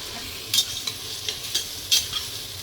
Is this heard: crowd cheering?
no